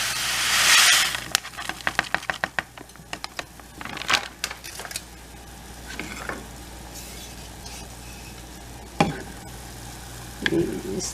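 A rice and pasta blend with broccoli and chicken flavor sauce is tipped into a boiling pot, giving a burst of rustling and clattering, then scattered stirring scrapes and bubbling with a few sharp clinks.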